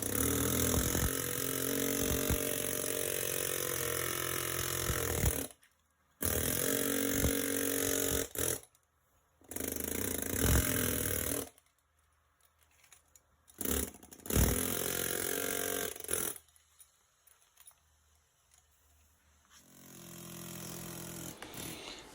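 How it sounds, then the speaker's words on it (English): A compact Snap-on PN3050B air jackhammer rattles loudly in long bursts with short pauses between them while breaking out concrete, then fades to quieter intermittent knocks and a low rumble. "with this little miniature Snap-on jackhammer, I'm putting in work here, breaking this concrete out"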